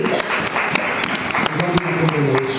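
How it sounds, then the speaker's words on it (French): Church congregation applauding loudly and continuously, a dense wash of clapping with a few people speaking over it near the end. "Nous acclamons très fort pour la parole de Dieu."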